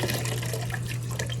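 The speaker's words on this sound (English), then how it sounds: "I'm just going to drain it, let it flush a couple times with some clean water" A Scotsman ice machine drains and flushes with clean water after a descaler cleaning, giving a steady, close rush of running water over a constant low motor hum, with no talking.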